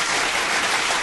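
A short, loud burst of dense clapping on a morning radio show, steady throughout.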